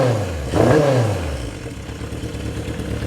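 A 1978 Kawasaki KZ650 motorcycle engine running with unbalanced carburetors, close by, revs up in a brief blip and then settles into an uneven, lumpy idle with a loose mechanical clatter.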